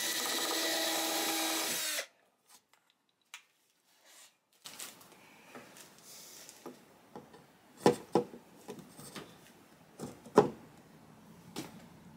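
A power drill whirs steadily for two seconds while enlarging a hole in an archtop guitar neck, then stops, followed by light handling clicks, taps and knocks close by.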